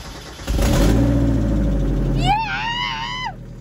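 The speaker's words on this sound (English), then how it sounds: "Oh, we got an exhaust leak, that's for sure." A Mazda Miata track car's rebuilt engine with an exhaust leak cranks and catches, then runs loud and rough at a steady idle while a voice lets out an excited shout over it.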